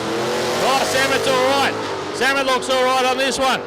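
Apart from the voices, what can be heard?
Cortina drag car launching at Palmyra Raceway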